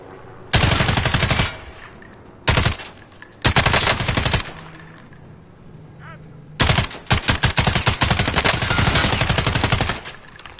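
Automatic gunfire from a first-person shooter video game rattles out in loud, rapid bursts separated by short gaps, with a quieter stretch in the middle.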